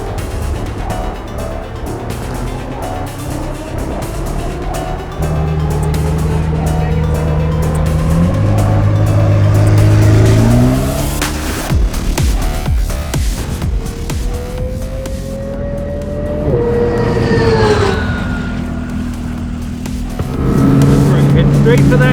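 A McLaren Senna GTR race car accelerates on a track, its engine note climbing through several rising sweeps with gear changes, loud and close from inside the car, while people talk over it.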